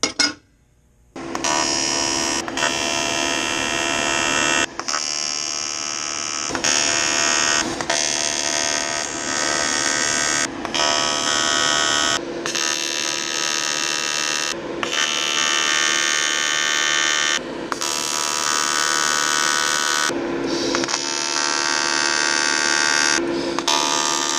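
Electric welder fusing cleaned metal pieces of a mount, a loud steady buzzing hiss with short breaks between beads, close and continuous, no talking.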